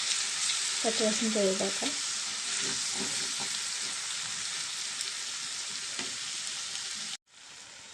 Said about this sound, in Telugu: ఇప్పుడు మెంతాకు వేద్దామండి. దీన్ని కూడా బాగా ఫ్రై చేద్దామండి